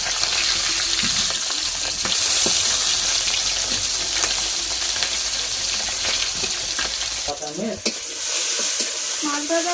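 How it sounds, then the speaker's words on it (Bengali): Koi fish and pangas frying in oil in a pan, a loud continuous sizzle with stirring and spatula scrapes, joined briefly by a few faint tonal clinks near the end. "মাছ ভাজা হয়ে গিয়েছে।"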